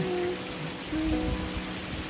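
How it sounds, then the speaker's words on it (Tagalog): Steady heavy rain hissing continuously across the whole stretch, dense and close, with a low rumbling undertone and no voices. "Ang lakas ng ulan, lakas ng hangin."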